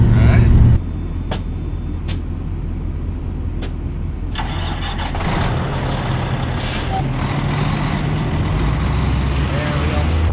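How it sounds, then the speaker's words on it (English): A farm truck with air brakes pulls away down a road, its engine loud and steady close by after a brief hiss of brakes releasing at the start, with a few sharp clicks and faint voices. "The brakes released, and we're headed down the road."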